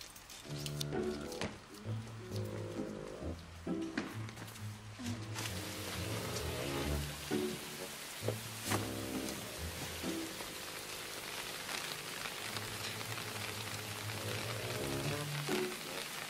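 Heavy typhoon rain pours steadily outside, a dense continuous hiss of drops across the whole stretch, while faint music and occasional thuds sit underneath.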